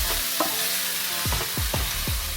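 Tofu and Brussels sprouts for a veggie bowl are stirred in a hot pan, with several quick scraping strokes of the utensil over a steady sizzle.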